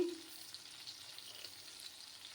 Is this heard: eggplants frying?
yes